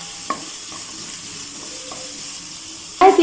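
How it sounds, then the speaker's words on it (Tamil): Chopped onions fry in a pan for a fish rendaan, making a soft, steady sizzle. A few faint clinks come through, then a louder stir or scrape at the end. "இப்போ இது நல்லா ஃப்ரை பண்ணிக்கலாம்."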